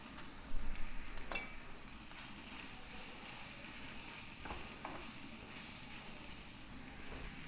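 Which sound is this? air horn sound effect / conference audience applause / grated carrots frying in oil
grated carrots frying in oil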